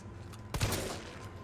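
Gunfire from the game Resident Evil 3 Remake cracks out in a single sharp close burst, with a brief roar and tail dying into the steady in-game ambient drone.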